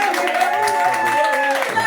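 Scattered clapping rises briefly during a meeting, mixed with voices talking and a background tone.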